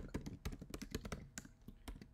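Fast, light typing on a computer keyboard, close and quiet, a steady patter of key clicks with no speech over it.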